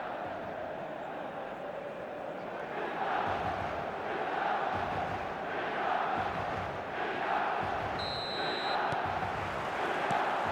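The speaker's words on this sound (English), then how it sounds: "Red and black wherever you turn, the San Siro is buzzing." A stadium crowd at San Siro in the eFootball video game buzzes as a steady, dense roar of many voices, swelling slightly now and then throughout.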